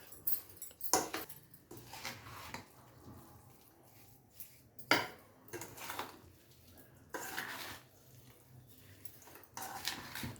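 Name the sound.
stirring amla pachadi in a pot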